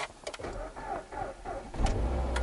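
A parked Kia Venga's engine starts after the start button is pressed with the brake held, a low rumble building and settling into a steady idle toward the end of a short stretch of cabin noise.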